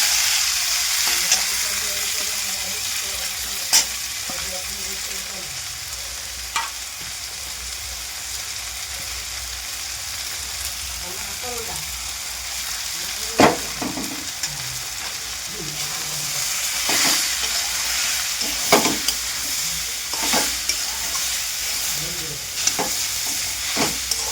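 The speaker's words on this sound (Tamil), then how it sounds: "இப்போ இதை வந்து நம்ம வதக்கி வச்சுருக்கோம் பார்த்தீங்களா" Spinach greens sautéing with garlic in a pan, a continuous loud sizzle with occasional clanks and scrapes of a stirring spoon, close by and steady.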